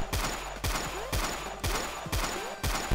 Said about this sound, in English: that stupid turret just blowing me away